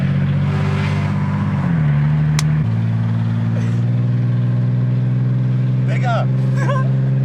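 A Mercedes CLK 320 with an M112 engine and modified exhaust drives along, giving a steady, loud droning rumble that steps in pitch twice early on, with a voice briefly heard over it near the end.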